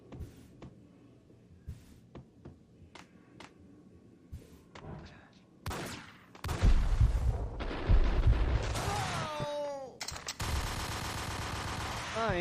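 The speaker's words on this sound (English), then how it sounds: "Ingrams, it's like an exercise in seeing how many bullets you can fit in one space in the shortest amount" Ingram submachine gun fire in a video game erupts as dense, rapid automatic bursts, loud and sustained, after a quieter stretch of scattered clicks and thuds.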